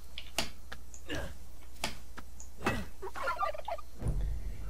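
A turkey in the video game Far Cry 5 gives several short gobbling bursts in an outdoor scene, clear and fairly close, with a few clicks between calls and no talk over it.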